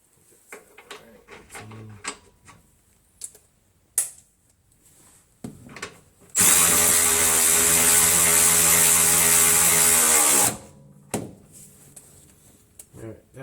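A Milwaukee impact wrench tightens suspension bolts on a 2011 Ford Crown Victoria, rattling loud and close in one sustained burst of about four seconds, set among scattered clicks and handling noises.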